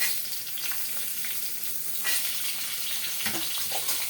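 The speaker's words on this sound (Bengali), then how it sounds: "বাদামটা ভাজা ভাজা হয়ে গেছে, এখন আমি এর মধ্যে দিয়ে দেবো আলু" Potatoes go into a pan of roasted peanuts and fry, giving a continuous close sizzle with occasional stirring scrapes and no voices.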